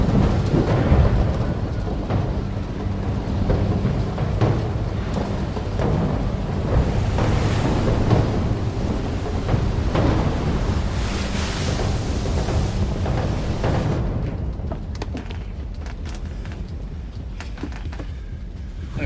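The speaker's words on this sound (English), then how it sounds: "Yeah, this storm is crazy. Never seen so much lightning." Heavy thunderstorm at sea aboard a patrol boat, with loud rolling thunder, steady rain and wind buffeting the microphone, continuous throughout before the roar drops somewhat near the end.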